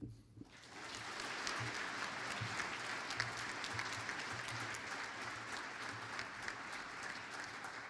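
Steady, continuous applause from an audience at an art colloquium, many hands clapping evenly throughout at moderate distance, with little talk.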